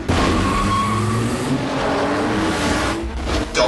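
Street race cars speeding in The Fast and the Furious: loud, close engines roar at high revs with tires squealing, holding a sustained intense whine for the whole stretch.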